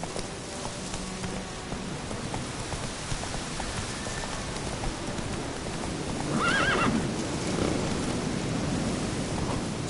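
Witcher 3 horse Roach whinnies and trots through rain, hooves clopping under a steady wash of rainfall, with a louder neigh rising near the end.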